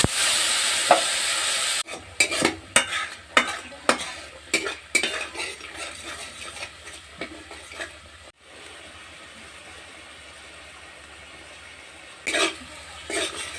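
A turmeric and chilli spice paste sautés in a pan, a loud sizzle at first, then a run of rhythmic stirring scrapes over a softer fry before it quiets down.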